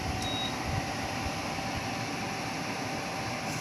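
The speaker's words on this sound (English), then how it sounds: "At the moment, I'm just going to turn it off." A Homebase 12000 BTU portable air conditioner hums as it is switched off, a faint, steady whir with a brief beep near the start.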